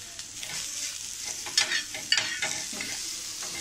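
Onion fries with salt in a pan, a soft continuous sizzle close by with a few sharper bursts of stirring scrapes, no talk.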